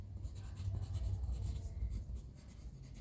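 A pen scratches across paper up close in short, uneven strokes for about three seconds, soft and papery with no voices.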